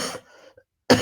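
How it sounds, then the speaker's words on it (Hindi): A man clears his throat and gives a short cough, faint and close, followed by a gap of silence and the start of his speech. "ज्यादा तेज बोलने में खांसी आ रहा है।"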